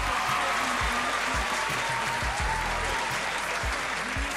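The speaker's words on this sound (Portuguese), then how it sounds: "Uma salva de palmas para vocês já" An audience at a televised stand-up comedy show claps loudly and steadily, a dense burst of applause filling the room for several seconds with no talking over it.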